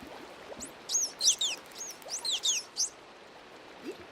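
Chirping creatures swim in a Minecraft aquarium in a video game, giving bright, high, bird-like tweets in quick overlapping bursts over soft background hiss, close and moderately loud.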